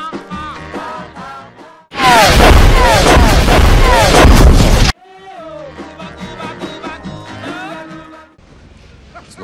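Artillery fire as a loud sustained roar of blasts lasting about three seconds, set between stretches of speech and music that continue before and after it.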